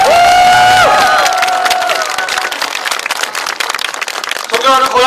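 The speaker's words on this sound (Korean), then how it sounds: "동의하시면 박수 한번 쳐주십시오." A large crowd claps and cheers at an outdoor presidential campaign rally in Goyang, loud and continuous, with a voice speaking over the start and shouting near the end.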